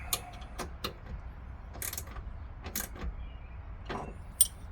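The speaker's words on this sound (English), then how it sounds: "I just grabbed a crescent wrench there just to hold it. I'll go ahead and tighten that up." A crescent wrench holds a nut while it is tightened during installation of trunk lift supports on a Hyundai Elantra N, giving sparse, close metallic clicks and scrapes spaced irregularly over faint background noise, with no talk.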